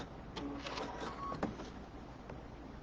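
A sewing machine stitches a quilt border just inside a basting line, making a quiet mechanical whir with light repeated clicking in a short run, then fading to a low hum. The sound is faint and there is no talking.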